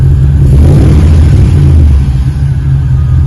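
A 1936 Cadillac engine revs through newly fitted Magnaflow mufflers, a loud, deep, smooth exhaust burble that swells briefly and then settles, close up with no talking.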